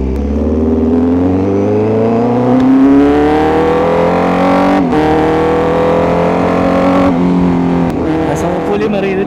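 Honda CBR1000RR-R Fireblade SP sport motorcycle engine and exhaust pulling hard through the revs, a loud, close, rising howl that dips briefly at a gear change before climbing again, with wind rush throughout.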